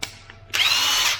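A Makita power tool whirs up sharply after a brief click, running at a steady high-pitched whine for under a second while a worker opens the housing of a concrete mixing bucket attachment.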